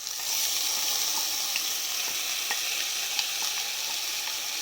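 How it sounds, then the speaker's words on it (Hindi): Washed arhar and moong dal tipped into hot oil with crackling cumin, giving a steady close sizzle and frying hiss throughout, with faint scattered pops and stirring clicks. "जीरा थोड़ा सा चटक जाए तो इसमें डाल देंगे हम ये धुली हुई दालें, अरहर की दाल और मैंने ली है धुली मूंग की दाल"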